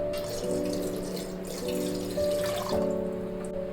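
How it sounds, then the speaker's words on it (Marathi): Water poured from a tap into a pot for steaming dhokla, a steady close trickle with a rising pitch as the vessel fills, quiet and alone. "पाणी टाकून घेऊ"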